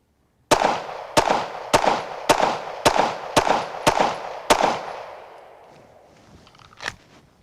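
Handgun fired eight times in an even, fairly quick string at a target during a shooting drill, each shot a sharp loud crack with ringing decay, followed by a fainter single report.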